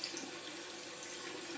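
Tap water running steadily into a sink while a makeup brush is rinsed, a constant close hiss of flowing water with no speech.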